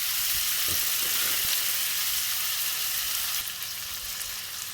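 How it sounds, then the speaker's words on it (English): Browned onions sizzle steadily in a pan as they sweat down for an onion gravy braising liquor, a continuous close hiss with a few soft knocks and no talking. "we're going to put our onions nicely coloured up into the pan and sweat them down"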